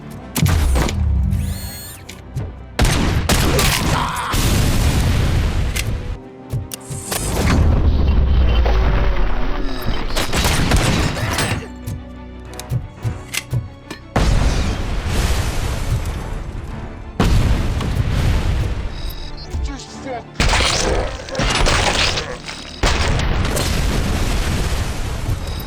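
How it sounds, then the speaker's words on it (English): Grenade explosions in RoboCop: Rogue City, a series of loud, deep booms and blasts in quick succession, separated by brief gaps and mixed with gunfire and clattering game action. "The grenade spam is crazy. Every room I go in, their first reaction is to just throw grenades."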